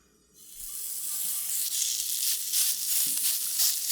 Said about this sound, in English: Do we want the oil to be hot first before we put the patties in?